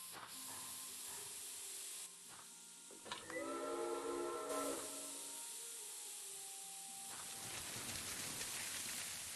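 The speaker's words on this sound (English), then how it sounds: "Those whistles mean a train with a snowplow has arrived from Broad." In the Agatha Christie Murder on the Orient Express video game, a snowbound train sounds its steam whistle with a sustained tone amid a steady hiss of steam, heard fairly distant and soft without any talking.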